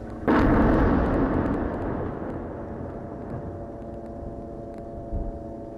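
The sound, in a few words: explosions in Gaza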